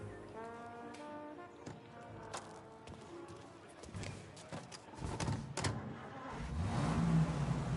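A car engine in Mafia Definitive Edition hums and revs beneath conversation between a driver and a passenger, the engine growing louder and rising in pitch toward the end.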